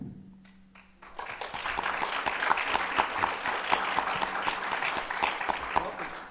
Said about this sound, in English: You may also clap for the next candidate